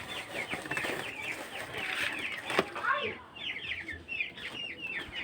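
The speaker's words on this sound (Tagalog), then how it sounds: "Bigyan natin ng pagkain yung mga manok guys." A flock of hungry chickens clucks and squawks busily at close range while being fed, their calls coming in quick overlapping runs as a person talks nearby.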